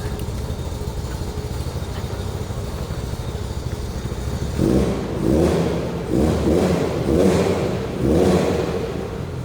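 A 1973 Triumph TR6 convertible engine idles with a low rumble, then revs several times in quick bursts, each rising and falling, close by.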